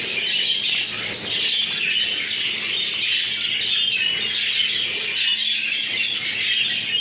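Dense, continuous chirping and squawking from a flock of budgerigars, including young birds newly weaned onto seed, loud and close with many overlapping calls throughout.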